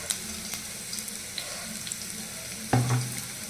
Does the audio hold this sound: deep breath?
no